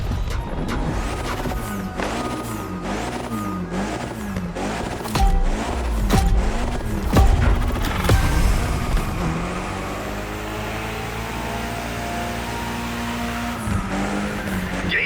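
A Mitsubishi Lancer Evo X drifts through a corkscrew in The Crew Motorfest, engine revving up and down with wavering pitch, tyre squeal and occasional impacts, loud and close throughout.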